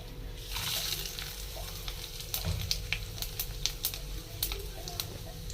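Fish frying on both sides in a hot pan, crackling and sizzling steadily with sharp pops scattered throughout, close and fairly loud, with no talking.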